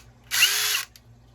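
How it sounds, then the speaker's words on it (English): A DOWOX 21V brushless impact driver spins up briefly, a steady loud motor whine lasting about half a second before cutting off, with no voices. "It's got that typical cheaper brushless motor."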